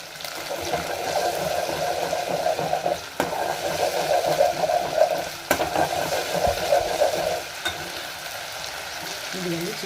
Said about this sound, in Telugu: మ్యారినేట్ చేసి పెట్టుకున్న చికెన్ ఉంది కదా అదంతా దీంట్లోకి వేసుకోవాలి